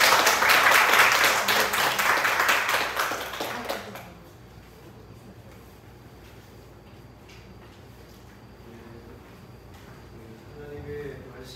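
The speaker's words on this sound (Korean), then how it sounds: "박수로 한번 우리 강사 목사님 환영하실까요?" A church congregation at a mission conference applauds to welcome a visiting pastor, a loud burst of clapping for about four seconds that cuts off abruptly, followed by quiet room tone and faint shuffling.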